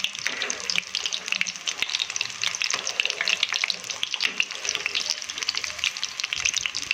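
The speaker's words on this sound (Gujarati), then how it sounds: "થોડા નીચેથી ફ્રાય થાય એટલે આપણે એને પલટાવી દઈશું." Stuffed masala potatoes coated in cornflour fry in a pan with a steady crackling sizzle and irregular spitting pops, close and continuous, with faint clinks now and then.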